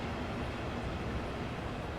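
A Southeastern Class 375 electric train at Faversham station gives off a steady, loud rumble that holds without a break throughout.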